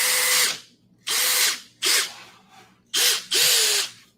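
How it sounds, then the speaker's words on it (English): A power drill drives screws into drywall in four loud bursts, each about half a second to a second long, separated by short pauses. The last two bursts come close together, with a whining pitch that drops at the end of each run. "I can get the drill, I can get the screws, and I can put a couple screws in there."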